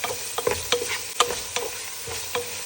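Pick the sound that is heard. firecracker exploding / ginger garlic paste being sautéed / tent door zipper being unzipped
ginger garlic paste being sautéed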